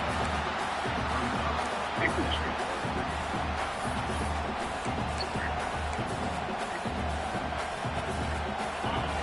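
A stadium crowd at a football game roars in a sustained, dense wash of cheering and noise, heard from a distance under a commentator's ongoing talk.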